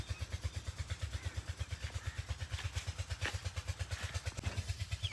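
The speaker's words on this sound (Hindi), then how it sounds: "ट्रैक्टर खेत में फंस गया बेचारा।" A tractor's engine runs steadily while the machine is stuck in a field with a failed front-wheel bearing, giving a loud, fast, even low-pitched thumping throughout with no speech.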